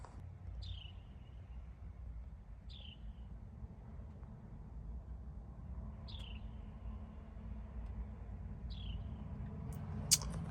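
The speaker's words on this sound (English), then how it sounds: "Little bird hanging out in the truck." A small bird inside a parked truck gives four or five brief high chirps spaced a couple of seconds apart, faint against a steady low rumble of background noise.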